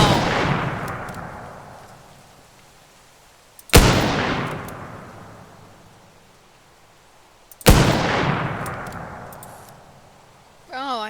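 Three heavy gunshots in the video game Teardown, spaced about four seconds apart, each a sharp loud crack with a long booming tail that fades away, with a brief sound effect at the very end.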